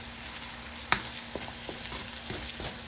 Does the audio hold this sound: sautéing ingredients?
yes